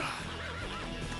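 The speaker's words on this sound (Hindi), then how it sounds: "क्या खूबसूरत घोड़ा है" A horse neighing in a short, dense burst of sound, heard close up amid a busy mix of background noise.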